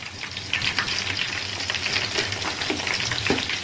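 Chicken leg pieces frying in hot oil, a steady close crackling sizzle with dense bursts of popping spatters throughout.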